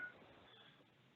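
A brief, faint burst of telephone keypad tones on a phone line during a remote meeting call, heard alone for about a second.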